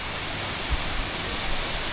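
Kuang Si waterfall near Luang Prabang, Laos, gives a steady, broad rush of falling water, continuous and fairly loud with no voices.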